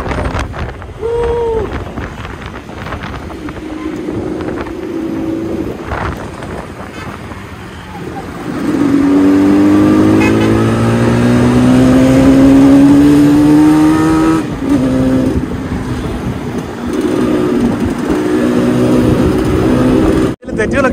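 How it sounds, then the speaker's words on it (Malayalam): A vintage Yamaha RD 350 two-stroke motorcycle engine while riding, its buzzy note rising and falling through gear changes and climbing revs, mixed with wind rush and occasional talk from the rider. "ഇപ്പൊ നമ്മൾ പോകുന്ന RD 350 ഓ എന്താ സൗണ്ട്"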